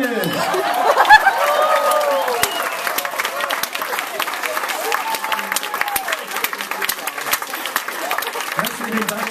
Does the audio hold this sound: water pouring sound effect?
no